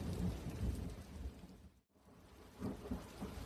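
Steady heavy rain with rumbling thunder, a dense continuous wash broken by a brief dip before the downpour and rumble resume.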